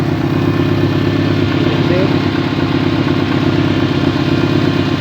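A car's electric radiator cooling fan switched through a relay, running as a loud, steady whirring drone with a constant mechanical hum throughout.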